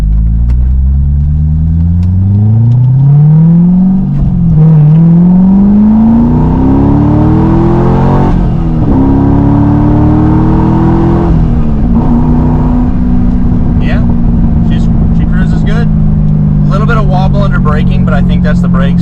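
A C6 Corvette rolls down a residential driveway, its engine note rising and falling with gear changes in a close, loud rumble, with someone talking over it and faint chirps toward the end.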